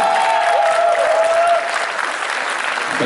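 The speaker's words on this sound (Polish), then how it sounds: "Wielki Kraków, brawa!" Crowd applause at an under-16 women's championship medal ceremony, steady clapping throughout, with a faint tonal whistle or sound-system tone over the first half, no speech.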